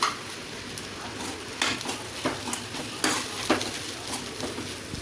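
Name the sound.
stirring coconut into frying bitter gourd and egg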